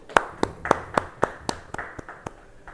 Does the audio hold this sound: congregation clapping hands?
yes